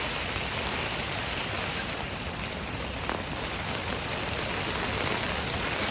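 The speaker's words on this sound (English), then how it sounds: "because it's raining." Rain pattering steadily on a camping tent during a windy winter storm, a dense even hiss of drops, close and continuous, no talking.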